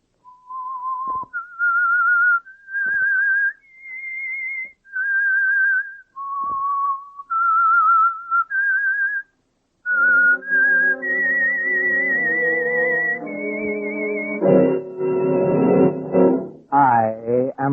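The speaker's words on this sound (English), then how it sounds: "That whistle is your signal for the Signal Oil Program" A whistled melody opening The Whistler radio drama from 1947, a solo whistle carrying a wandering eerie tune in clear sustained notes with short pauses, then joined by swelling orchestral music.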